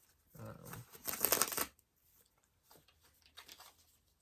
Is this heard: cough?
no